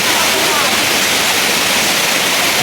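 Engkanto Falls pours in a loud, dense, unbroken roar of rushing water, heard up close with no pauses and nothing else standing out.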